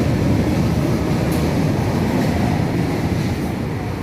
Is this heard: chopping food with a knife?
no